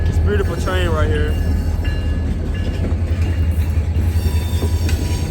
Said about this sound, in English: Beautiful train right here.